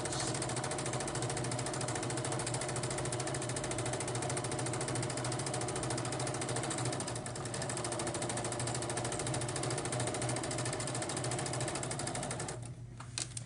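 A sewing machine runs continuously, stitching thread pine needles in a fast, even mechanical whir that stops briefly near the end.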